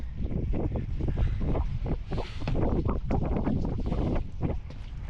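Wind gusting across the deck of a wooden boat under restoration, a steady broadband rush with buffeting microphone noise that swells and eases through the clip, no voices.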